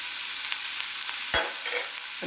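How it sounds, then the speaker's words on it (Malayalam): Ingredients for prawn biryani are sautéed in a pan until brown, with a soft steady sizzle, a few light stirring scrapes and one sharp clack of a utensil, quiet and without any voice. "വഴറ്റിയെടുക്കാം എന്നുവെച്ചാൽ വെച്ചാൽ ബിരിയാണിക്കിടുമല്ലോ ഇതൊരു ബ്രൗണിഷ് നിറമാകുന്നിടം വരെ നമുക്കിതിങ്ങനെ വിളക്കി ഇട്ട് കൊടുക്കാം"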